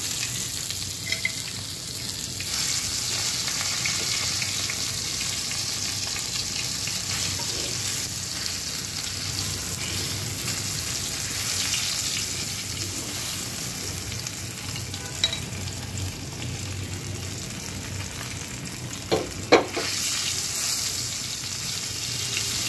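Koi fish frying in hot oil for a curry, giving a continuous close sizzle and bubbling that runs throughout, with a few clinks of a utensil near the end and no talking.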